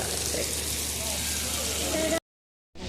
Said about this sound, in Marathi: अचानक एवढा जोरात पाऊस आला आहे आता परत अडोकलाय बघा कसा पाण्याचा आवाज